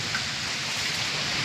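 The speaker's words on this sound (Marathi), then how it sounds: "असं वाटतंय वादळ आलं तर आलंय त्याच्यावर पाऊस पण आहे" Heavy rain falls steadily in a Konkan village during a storm, a dense, even hiss of drops striking surfaces with no pauses.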